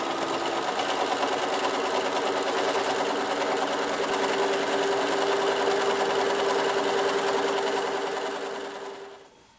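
A sewing machine runs steadily while stitching quilt block pieces, a close, even mechanical whir with a constant tone that holds for several seconds before winding down and stopping.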